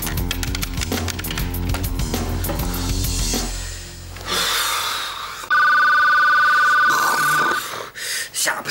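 A telephone rings at night with a repeating electronic ringtone over background music, then a louder sustained tone, with a brief breath or snort near the end.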